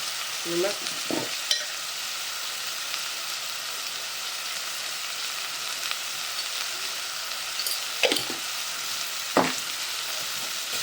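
Sev tomato curry sizzling in a pan with a constant bright frying hiss, occasional spoon scrapes and stirs cutting through near the start and again toward the end.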